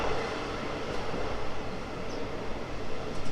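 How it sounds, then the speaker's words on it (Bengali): An old passenger train running on an aged line between Tinpahar and Rajmahal, with a steady dense rumble and rattle of the carriage swaying along the track, continuous and fairly loud with no voices. "আর এমন দুলছিল ট্রেন"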